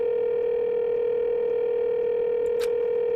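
A steady telephone dial tone from the video game Danganronpa 2 drones on evenly after a button press, loud and unbroken, with one brief electronic blip near the end.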